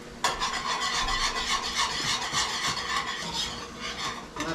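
A whisk scrapes steadily around a pan as crab boil seasoning is worked into a shrimp sauce, a close, continuous rasping swirl with no talking.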